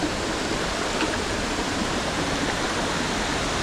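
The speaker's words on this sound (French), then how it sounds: "On va être sur une cascade, je l'entends là." A waterfall in the Cirque de Gavarnie thunders as a steady, dense broadband roar that stays loud and unbroken throughout, with no voices.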